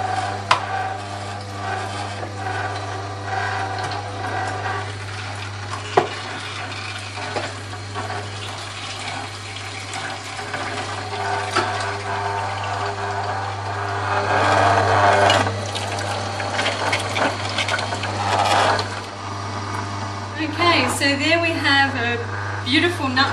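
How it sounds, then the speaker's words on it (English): Juicer pressing nuts into nut milk, a steady mechanical hum and grinding whir with light clicking and liquid trickling, continuous throughout, with a person talking over it. "And there we have nut milk coming through the juicer."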